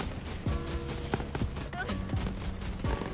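A Jakobs pistol fired by Moze in Borderlands 3, a series of sharp, loud single shots at an irregular, spaced rhythm over a dense game-soundscape background.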